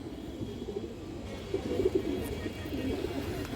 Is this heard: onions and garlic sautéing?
no